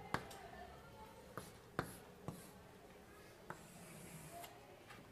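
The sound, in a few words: chalk writing on a blackboard during a lecture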